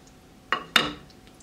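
A lid is set on a pot of homemade enchilada sauce left to simmer, giving two quick metallic clinks about a quarter second apart, close and fairly crisp against near silence.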